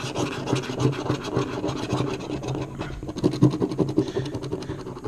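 A scratching tool rasps across a California Weekend Scratcher instant lottery ticket in steady, continuous close-up scraping strokes with a few louder bursts, and no talk.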